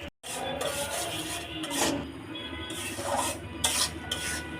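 Halwa ingredients being fried and stirred in a pan for a special Shab-e-Barat sweet, giving a steady close scraping and rasping as a spatula rubs the pan bottom, with brief louder scrapes throughout and no talk.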